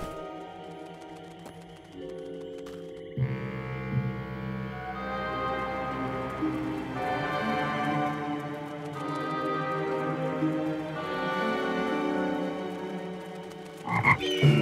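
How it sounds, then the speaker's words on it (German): Frogs croaking in a withered forest in an animated fantasy series, with layered, sustained croaks running alongside tonal background sounds, fairly quiet and without speech. "Vögel und Frösche."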